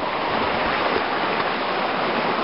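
Someone wading through a stream, a steady dense rush and slosh of moving water, close and continuous with no pauses.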